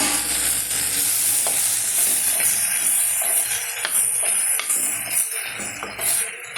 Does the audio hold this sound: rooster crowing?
no